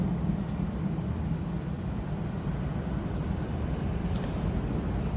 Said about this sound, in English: sorry about the noise, there's a train going past.